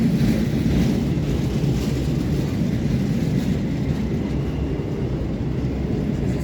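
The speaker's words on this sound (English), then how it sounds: "The freight train's having a little race with the 350." A freight train of black cars and some containers passes through Stafford station on the West Coast Main Line, a loud, continuous broadband rumble with no break.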